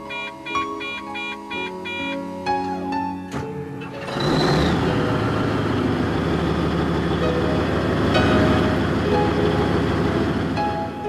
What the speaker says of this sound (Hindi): यह सुनिश्चित करने के बाद ही इंजन स्टार्ट करें कि आसपास कोई आदमी या मशीन नहीं है।